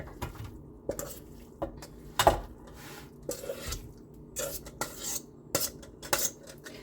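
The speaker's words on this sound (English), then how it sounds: "Non-stick pan. Dump it in." Spaghetti squash bake mixture being dumped and stirred in a non-stick pan, giving a series of soft scrapes, taps and utensil clinks at a low, close level with irregular pauses.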